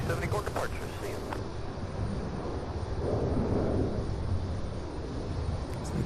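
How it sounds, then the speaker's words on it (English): An Allegiant Air airliner takes off at Louisville's SDF airport, a continuous broad engine roar from a distance with some wind buffeting the microphone. "That Allegiant Air took off"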